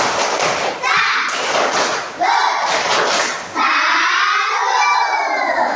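A class of children claps out a rhythmic salute clap, with bursts of hand claps and chanting voices ringing through a classroom in quick patterned groups.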